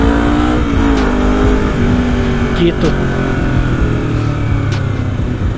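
Honda CBR250RR motorcycle engine revving hard, a loud sustained high-pitched whine with rising and falling revs, close up, with someone speaking briefly over it.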